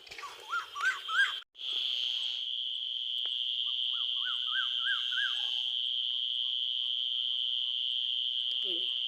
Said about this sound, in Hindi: कोयल की आवाज़,